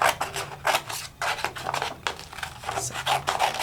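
Scissors snip through a torn-out coloring book page in a series of crisp, irregular cuts with light paper rustling between them, close and fairly loud, no voices.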